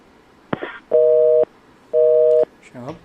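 A telephone busy signal sounds on a radio call-in line after a caller's call drops, two steady electronic tone pulses following a click, with a brief voice fragment at the end.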